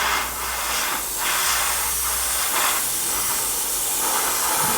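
An airbrush sprays silver paint onto the fuselage of an Airfix 1/48 scale Bristol Bulldog model kit, giving a steady close hiss with several brief surging bursts of spray.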